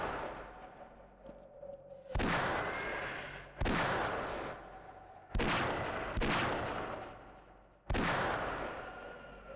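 Magnum revolver shots in Half-Life, five sharp loud bangs about one to two seconds apart, each trailing off in a decaying echo, with no voices.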